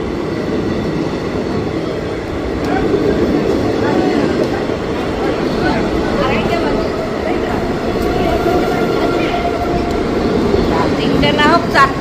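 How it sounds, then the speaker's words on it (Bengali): The Tebhaga Express runs slowly behind a WAP7 electric locomotive. Its steady rolling rumble goes on throughout, with faint wheel squeals and clicks, and voices are heard over it. "আর আমাদের বেলগাঁয়ের TSR এর জন্য কিন্তু ট্রেন এত স্লো যাচ্ছে।"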